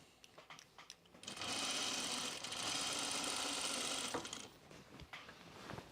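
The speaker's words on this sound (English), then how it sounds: "I'm just gonna top stitch on either side of my seam" Sewing machine topstitching either side of a seam on a pullover camp dress, one steady continuous whir of about three seconds, close and alone with quiet handling noise around it.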